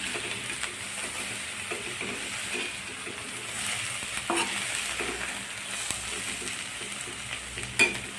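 Peas stirred into radish-leaf bhaji frying in a pan, a steady low sizzle with repeated soft scraping strokes of a spoon and a sharper clink near the end.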